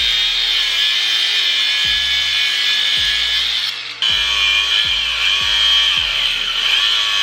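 A cut-off tool grinds through a Honda S2000 car transmission assembly in a loud, continuous, high-pitched whine that dips briefly midway before resuming, with faint low knocks underneath.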